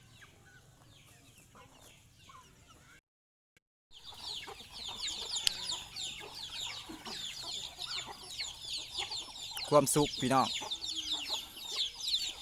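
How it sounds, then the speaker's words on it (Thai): Young chickens on a rural Thai farm cluck and peep close by, in irregular bursts that grow busier after a brief silent break, while someone speaks over them. "มีแต่ไก่น้อยเนาะพี่น้อง"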